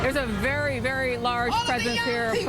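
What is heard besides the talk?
No distinct noise like a dog, phone or traffic.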